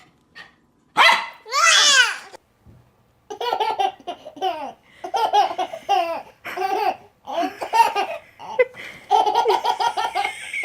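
A puppy gives several short barks and yelps, close and loud, while people laugh and talk excitedly around it.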